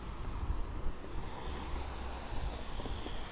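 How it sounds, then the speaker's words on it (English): Steady outdoor wind gusting past a carbon-fiber trike on a solo ride, a continuous broadband rush with microphone buffeting, like surf. No voices. "Certainly windy"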